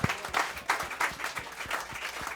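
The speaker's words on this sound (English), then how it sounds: "Clap your hands." An audience at a comedy roast claps, a brief, faint patter of applause in uneven bursts heard from a distance.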